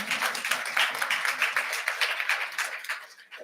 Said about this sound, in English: A round of applause for Mr. Gist and his team.